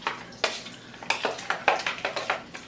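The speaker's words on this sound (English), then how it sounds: "Give it a nice stir" A spoon scrapes and clinks against a pot as ingredients are stirred, a quick series of close, sharp taps and scrapes in an uneven rhythm, with no voices.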